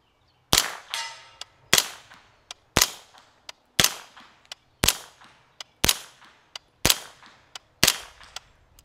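Suppressed rifle-length Angstadt Vanquish firing subsonic ammunition, wet: eight sharp, loud reports spaced about a second apart, each followed by a short decaying tail and faint action clatter, with no speech.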